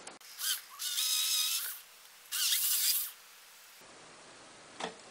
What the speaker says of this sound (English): drill this side to 3mm a little bit too.